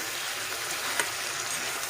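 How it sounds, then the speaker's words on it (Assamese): Steady, crackling sizzle of chicken frying in hot oil, continuous and close, with a brief louder pop partway through. "এয়া এনেকৈ ভাজিব।"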